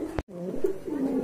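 Pigeons kept for sale coo in a short, low, throaty burst close by, briefly broken by a sharp click.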